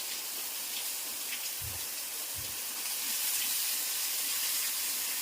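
Bombil fish frying on a tava over a wood-fired village stove, a soft, even hiss of oil with a couple of low knocks, faint and steady without talk.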